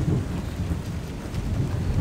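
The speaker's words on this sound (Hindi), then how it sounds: "बारिश शुरू हो गई है बहुत ज़्यादा" Heavy rain with thunder outdoors, a dense steady roar of rainfall with deep low rumbling throughout, loud and continuous with no voices.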